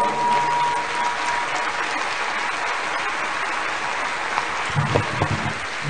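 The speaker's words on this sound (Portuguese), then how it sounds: "Can we clap for the army as they leave?" An audience at a pastors' conference in Campo Grande, Brazil applauds a military police band, sustained hall-wide clapping that holds steady for several seconds before thinning out with a few louder bursts near the end.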